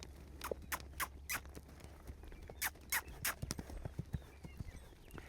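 Soft, faint hoofbeats in an uneven loping rhythm, a few louder thuds among quieter patters, with some squeaky tack sounds.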